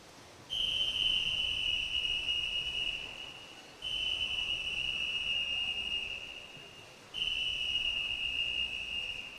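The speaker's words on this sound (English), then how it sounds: "there is the whistle to indicate Matt Van Sale is into his final 100 metres" Three long, steady whistle blasts at a regional swimming championship pool, each lasting about three seconds with short gaps between, loud and clear over a constant hum of pool-hall crowd noise, signalling a swimmer's final 100 metres.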